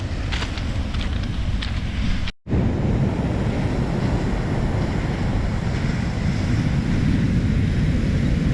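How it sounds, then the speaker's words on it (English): Waves wash steadily onto a stone beach at Gillespies Beach, a continuous loud surf roar mixed with wind buffeting the microphone, with one brief dropout partway through. "you can see the ocean here"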